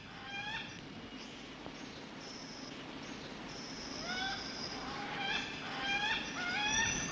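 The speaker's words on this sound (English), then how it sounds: "These red-tailed black cockatoos are very upset because they've got 2 babies" Red-tailed black cockatoos call near their two young in tall trees: a series of rising, upset calls repeats over a steady outdoor background, growing louder and more frequent toward the end.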